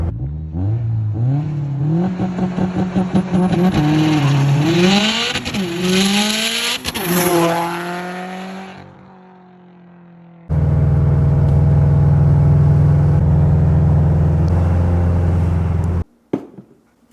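A supercharged BMW E92 M3 launches and accelerates hard, its engine note climbing loudly through the gears, then easing off, followed by a deep, steady droning roar from inside the car.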